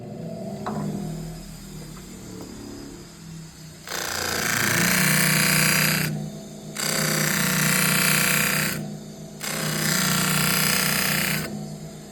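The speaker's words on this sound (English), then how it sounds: "This is a variable speed buffer, and I'm going to run it as slow as it goes for the coarse wheel" Variable speed buffer turned to its slowest setting, sharpening a knife on the coarse wheel: a loud, steady grinding whir heard in three long passes separated by short pauses, after quieter mechanical handling at the start.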